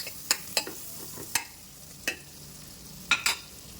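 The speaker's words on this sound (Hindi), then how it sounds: "इसमें हम डाल देंगे अनियन, और अनियन को भी ब्राउन नहीं करना है आपको, खाली हल्का सा सौटे करना है बस।" Onion lightly sautéed in a pan for broccoli soup: a soft sizzle sits beneath several sharp, separate spatula clacks and scrapes against the pan, close and clear.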